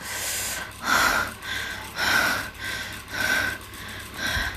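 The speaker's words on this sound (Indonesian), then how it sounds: "Suara deru nafas" Heavy, rhythmic breathing close up, with repeated loud airy inhales and exhales about once a second, no talking.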